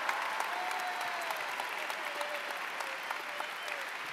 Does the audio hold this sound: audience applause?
yes